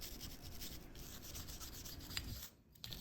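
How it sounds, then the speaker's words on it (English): A nylon brush scrubs dirt from the slide rails of a Glock 26 pistol, producing faint, rapid rubbing strokes in a continuous scratchy rhythm, close up and quiet, with no talking. "I'm just going to be using my nylon brush to remove all the dirt and debris, especially here on the rails."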